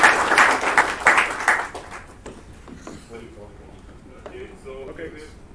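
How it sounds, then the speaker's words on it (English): Audience at a Kubernetes tech meetup in Jakarta applauds a guest speaker, a loud burst of clapping for about two seconds that quickly fades, followed by quiet room sound and a voice speaking. "give your biggest applause to Mete"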